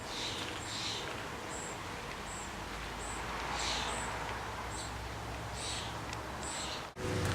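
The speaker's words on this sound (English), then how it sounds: "If you can hear the creek right behind me" A creek flows through Madrona Woods, a soft steady wash of water with scattered high bird calls over it.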